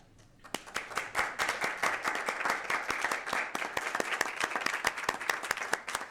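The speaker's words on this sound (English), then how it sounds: "applause." Audience at a school board meeting breaks into steady applause, many hands clapping densely and evenly for several seconds after a brief quiet start.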